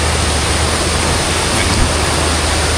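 Rushing water at a hot spring in Kanchanaburi, Thailand: a loud, continuous broadband roar like heavy floodwater pouring past, steady throughout with no break.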